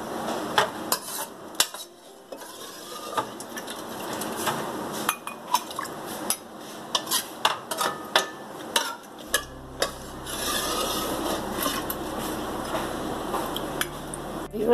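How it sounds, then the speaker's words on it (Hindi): Homemade watermelon tutti frutti with its syrup being spooned into cups: repeated close clinks and scrapes of a utensil against cups and a dish over a steady background hiss, with a low hum entering partway through. "हमें इसके शीरा भी साथ साथ डालना है।"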